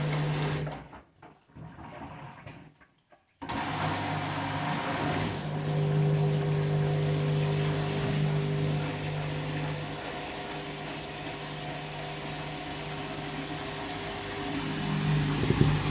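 Candy washing machine on its final 400 rpm spin cycle: a brief stop-and-start at first, then a steady droning hum with a clear motor tone that holds and slowly builds, with no voices.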